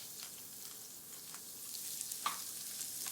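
Onions sautéing in a pan for a crab, spinach and artichoke dip give a faint, even sizzling hiss with small crackles and one brief sharper pop near the end.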